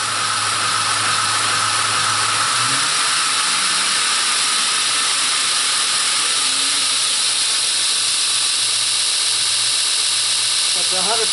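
A new 454 Pheer knife blade grinder with variable speed runs continuously, producing a steady, loud hiss and whine that fills the space, with a voice speaking over it.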